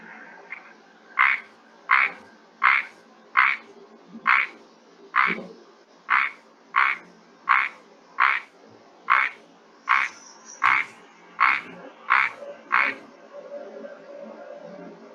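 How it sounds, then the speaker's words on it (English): Microhyla rubra, the tiny narrow-mouthed frog of the Western Ghats, calls in a steady series of about fifteen short, evenly spaced buzzy croaks, loud and close, with no talk over them. "the next frog I'm going to play is called as Microhyla rubera, which are called narrow mouth frogs"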